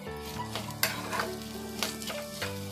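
Buckwheat-flour dosa masala with coriander being stir-fried in a pan: continuous close sizzle broken by several sharp spatula scrapes and knocks, with no talking.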